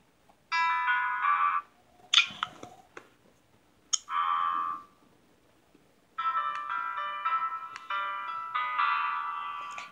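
Piano Tiles mobile game music plays from a phone as bright, tinkling piano-like note runs in several bursts with gaps and a few taps between them.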